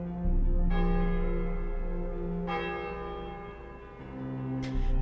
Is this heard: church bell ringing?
yes